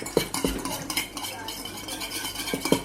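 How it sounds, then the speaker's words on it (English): A tiny whisk beats a dressing in a small bowl, clinking and scraping against the sides in quick, uneven strokes, close and fairly loud, with a faint sizzle behind. "Then get your tiny whisk. Let's give it a bit of a whisk."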